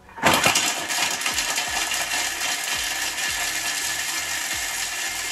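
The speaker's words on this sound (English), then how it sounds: "So this is going to chop for 8 seconds on speed 8." A kitchen food processor chops a single garlic clove on speed 8. A sharp start gives way to a loud, steady motor whir, with rattling clatter from the blade and bowl running throughout, close up and without talk.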